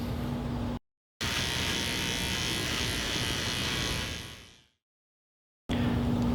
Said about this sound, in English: Now I will be switching to my Sterling 5 trimmers.